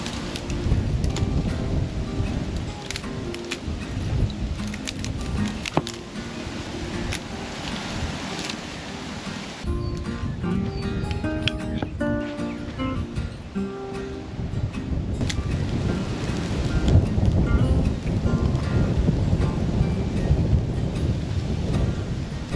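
Wind gusts across the South Australian outback on the Oodnadatta Track, a loud, continuous roar with heavy rumbling buffets against the microphone and no voices.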